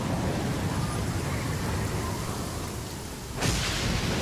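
Heavy rain pouring down in Genshin Impact, a dense steady hiss of downpour that swells louder near the end, with no talking.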